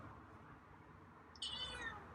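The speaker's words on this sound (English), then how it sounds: "Okay, there's a meow." A feral cat being tamed at feeding time lets out a single short meow, clear and fairly close against quiet room noise, after a stretch of near silence.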